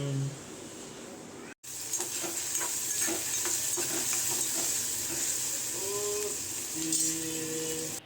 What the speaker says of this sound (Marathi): कांदा आणि टोमॅटो चांगलं तेलात परतवायला ठेवलं आहे